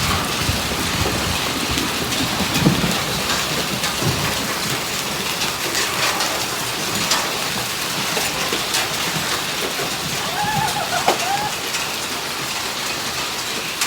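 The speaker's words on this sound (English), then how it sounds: "We got a major hailstone going. Major hailstorm." Heavy March hailstorm in Oklahoma, a dense continuous roar of hail and rain pounding surfaces, steady and loud throughout with faint rumbles beneath and no one speaking.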